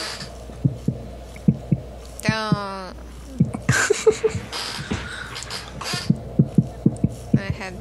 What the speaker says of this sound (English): If I can hear a heartbeat, and it's making me really uneasy.